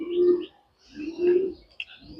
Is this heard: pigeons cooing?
yes